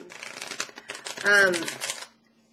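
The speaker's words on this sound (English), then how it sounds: "I shuffled these before, but I feel like I need to shuffle them one more time." Tarot cards are shuffled close by, a quick, fluttering riffle of cardstock with a brief louder burst before it stops, heard under a speaking voice.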